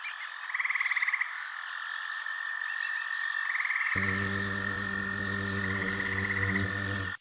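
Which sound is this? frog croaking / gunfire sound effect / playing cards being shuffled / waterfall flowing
frog croaking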